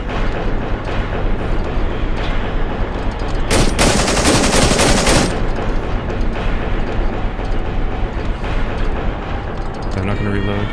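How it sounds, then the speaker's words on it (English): Sustained machine gun fire in the Cry of Fear game, a dense, loud, continuous stream of shots that swells into a louder burst midway before easing back, with no talk. "As we have a machine gun."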